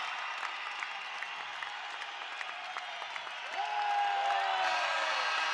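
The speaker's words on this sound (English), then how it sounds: "Listen to this crowd." Crowd noise in a college basketball arena at a New Mexico State home game, a broad sustained roar with scattered claps that swells louder toward the end, while whistle-like tones sound on top.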